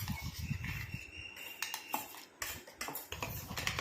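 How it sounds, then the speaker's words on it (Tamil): A metal spoon scrapes and clinks against the inside of a steel mixer jar, pulling out freshly ground hair-dye paste in quick irregular strokes, close and moderately loud with no talking. "இப்போ நல்லா ஒரு கரண்டி வச்சு இந்த மாதிரி எல்லாத்தையும் எடுத்து விட்டுக்கலாம்"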